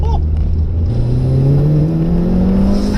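A modified Mitsubishi Evo 5 engine pulls hard under acceleration, its rising drone climbing steadily in pitch, loud and close from inside the car, with a voice briefly heard over it.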